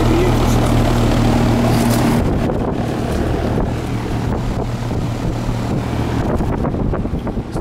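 Old original Kenmore air conditioner unit running poorly, a loud continuous mechanical roar with a low steady hum that fades out after about two seconds, while the broad rushing noise carries on throughout.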